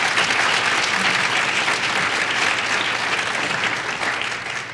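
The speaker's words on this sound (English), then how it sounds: "Let's give our panel another great round of applause." Audience at a women's agricultural leadership summit applauds a panel, a dense sustained round of clapping from a large crowd that fades slightly toward the end.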